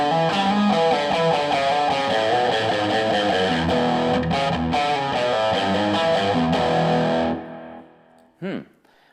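Distorted electric guitar riff played through a BluGuitar cabinet set on a chair, loud and dense with chords for about seven seconds, then cutting off to near silence with a brief short sound at the end.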